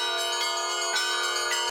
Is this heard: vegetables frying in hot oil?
no